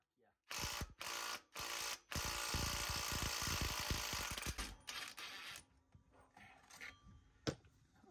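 A Ryobi power tool works loose a stubborn bolt: three short whirring bursts, then a long, loud, rattling run close by that trails off into quieter mechanical clicks, with voices nearby.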